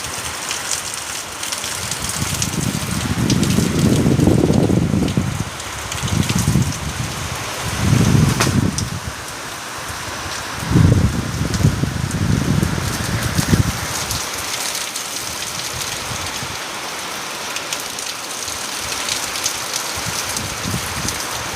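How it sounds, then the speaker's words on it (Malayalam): Heavy afternoon rain falls in a steady, dense hiss for the whole stretch, with a few deeper rumbling swells rising and fading beneath it, and no voices. "ഉച്ച കഴിഞ്ഞ് ഇന്ന് നല്ല മഴ."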